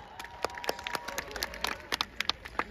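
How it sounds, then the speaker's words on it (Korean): Audience applause at a Korean baseball team's family fan event as two players are called up, a steady patter of clapping from a crowd with scattered cheers, moderately distant. "박찬호 선수를 모시면 박수!"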